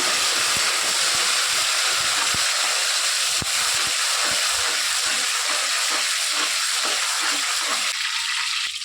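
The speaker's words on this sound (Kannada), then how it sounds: "ಪುದೀನ ಸೊಪ್ಪು ನಾನು ಎಣ್ಣೆಗೆ ಸೇರಿಸ್ಕೊತಾ ಇದ್ದೀನಿ" Mint and coriander leaves sizzle loudly in hot oil, making a steady dense frying hiss with faint scraping stirs and soft taps throughout, close and continuous, no voices.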